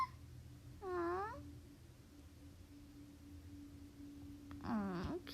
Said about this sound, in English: I'm trying to see my cat